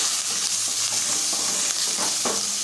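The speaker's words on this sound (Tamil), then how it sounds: "ரெண்டையும் உள்ளே சேர்த்துடலாம் சேர்த்து கலந்து விட்டுப்போம்" Green chili and peeled grated ginger stirred into tempered lentils in a pan, a steady bright sizzle with occasional spoon scrapes and soft clinks, close up and with no talking.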